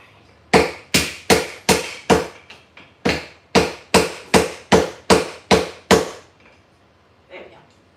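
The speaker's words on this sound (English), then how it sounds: "So let's use the big hammer" Heavy hammer blows from building an airplane: about a dozen loud, sharp, evenly spaced strikes in steady rhythm, close by, then a short pause and one faint knock.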